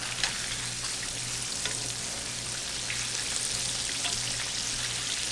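Bass fish frying in a pan under a closed lid, a steady dense sizzle with fine crackle that runs loud and unbroken the whole time, near and alone.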